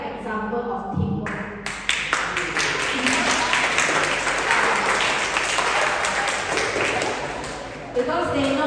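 A group applauds and cheers for a teammate at a leadership workshop, with steady clapping and excited voices filling the room for several seconds before fading.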